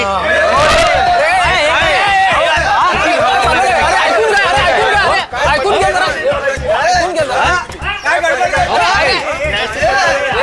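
A crowd of customers shouts and clamours at a milk seller, excited voices overlapping in loud chatter with laughter mixed in, people talking over one another close by.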